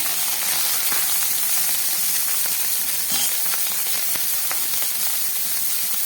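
Small washed shrimp fry in hot oil in a wok, giving a steady, dense crackling sizzle with scattered sharp pops throughout.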